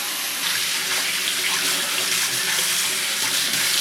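Tap water runs steadily into a sink while a cleaned gaper clam neck is rinsed, a loud, continuous splashing hiss with no voices.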